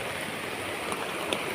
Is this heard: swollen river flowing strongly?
yes